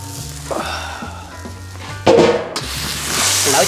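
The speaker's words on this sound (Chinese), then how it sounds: "先把这个鹅油煎一下" Goose fat sizzles and fries in an iron wok, a soft steady hiss with scraping and rubbing of the pan, then a brief louder burst of crackling partway through.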